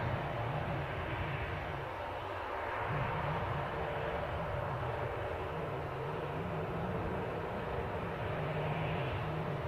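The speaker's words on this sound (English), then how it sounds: "we have on your screen at the minute the Loganair departure, Saab 340" A Loganair Saab 340 turboprop departs Aberdeen airport, a steady broadband engine roar holding fairly loud and even throughout, with no voices over it.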